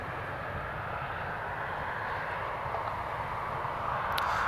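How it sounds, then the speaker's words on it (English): An Air France airliner taxiing at Newcastle Airport, a steady broad jet engine rumble and whine holding at a constant level throughout, fairly close and growing slightly louder near the end. "there's the Air France taxiing"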